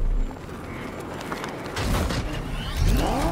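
The Batmobile drives in Batman Arkham Knight with a low engine rumble and mechanical creaks, swelling louder toward the end, with no talk over it.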